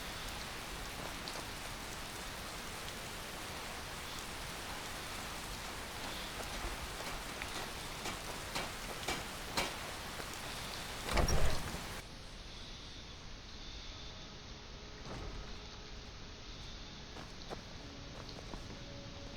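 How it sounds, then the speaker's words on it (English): Steady rain falls in Skyrim, a continuous even patter across the scene, with a brief louder thump midway and a slightly quieter, thinner rain bed afterward. "Still raining."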